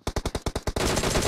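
Gunfire in the video game PUBG Mobile: about eight rapid, evenly spaced loud shots crack in quick succession, then merge into a dense sustained burst.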